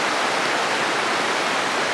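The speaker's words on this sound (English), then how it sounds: "The river rapids are kind of noisy right here." River rapids rush over boulders between gravelly banks, a steady, loud broadband roar of turbulent water that fills the whole stretch without pause.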